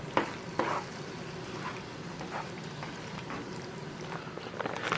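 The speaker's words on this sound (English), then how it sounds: "I'm going to add the pasta to the mix. And stir that in." Soft stirring of pasta into a pan of goulash over a faint simmering sizzle, with a couple of brief clinks of the utensil early on.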